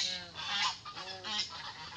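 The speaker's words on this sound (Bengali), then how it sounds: "ওগুলো হয়েছে পাতি হাঁস, মানে যেটা দেশি হাঁস বলে" Domestic ducks call in a series of nasal, honking quacks, moderately faint and somewhat distant, with no talking.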